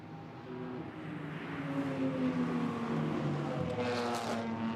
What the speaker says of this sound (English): number 50 BMW out on track